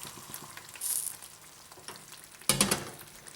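Homemade lamb curry cooks in a pan with a low, faint sizzle, briefly swelling into a louder crackling hiss partway through before settling again.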